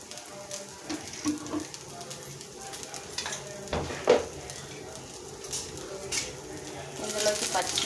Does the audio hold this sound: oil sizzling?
yes